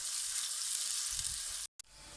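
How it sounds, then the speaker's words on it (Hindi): Onions sizzle in very hot oil with a steady, bright hiss that stays close and even, then cuts out abruptly near the end before resuming faintly. "अब इन्हें तेज़ गरम ऑयल में डालेंगे। इनको हमने ब्राउन और क्रिस्पी करना है।"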